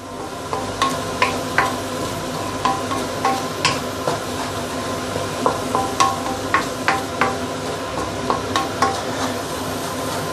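Eggs and prawns frying slowly in a pan, a continuous low sizzle punctuated by frequent small crackling pops, close and steady without talk.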